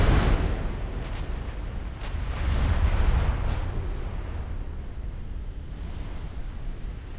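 Naval gunfire in a 1945 North Sea fleet battle game, guns shifting onto a heavy cruiser: rolling heavy booms and bursts over a constant low rumble, with a louder swell of firing in the middle and no talk.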